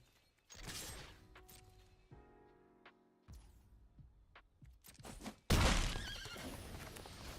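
A horse neighs and whinnies in a Magic: The Gathering video game as an ostrich-horse card is played, with clip-clopping hooves and mechanical creaks between the calls, ending in a loud burst near the close.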